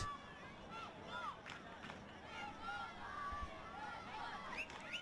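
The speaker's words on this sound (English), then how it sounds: "There's a great crowd. Luxury Paint Stadium cheering on the home crowd." A football crowd at Luxury Paint Stadium during a National Premier League men's match, a broad low-level murmur and shouting with a few whistles, kept at a distance.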